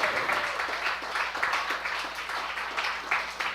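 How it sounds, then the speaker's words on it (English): A fundraiser audience at the 120 Diner in Toronto applauds the restaurant team, giving dense, steady clapping that fills the whole stretch at a moderate distance. "Could we have a huge round of applause for the 120 Diner and the wonderful team here?"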